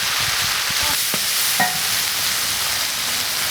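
Star anise, cinnamon, bay leaf and Sichuan pepper stir-fried in a wok with bean paste, a loud steady sizzle broken by a few scraping stirs and clinks near the start, close up.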